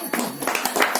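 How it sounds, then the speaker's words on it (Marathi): Audience clapping in the hall during a Gita discourse held by a Radhakrishna satsang group, a short burst of claps from several hands, fairly close and moderately loud. "यांच्यासाठी तुम्हाला टाळ्या वाजवाव्याच लागतील."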